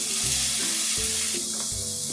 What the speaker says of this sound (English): putting 1 teaspoon of oil in this preheated skillet. Right. And then our veggies go in